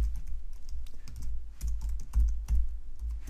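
Someone types a command on a Mac computer keyboard, with quick, irregular clicking keystrokes close by and a few heavier key presses among them. No voices are heard.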